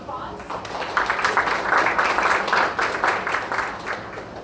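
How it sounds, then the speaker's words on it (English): An audience at an artificial intelligence event applauds as a speaker is welcomed, with a steady crowd of clapping that swells and holds. Someone talks faintly over it. "Please give her a round of applause."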